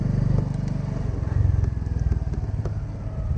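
A Honda Biz motorcycle is ridden in a low gear, no higher than third, at slow speed with a child aboard, its engine putting out a steady, loud, close-up putter with some wind and road noise and no talk.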